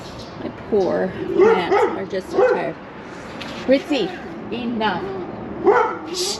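Small dog named Ritzy barking and yipping in short bursts in a summer garden, fairly close, under someone talking.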